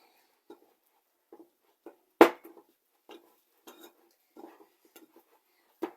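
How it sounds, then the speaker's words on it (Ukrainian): Honey cookie dough is mixed with flour in a bowl by hand, making sparse, scattered clinks and scrapes of a utensil against the bowl, with one sharper knock. "Ми перемішуємо це з борошном змішуємо"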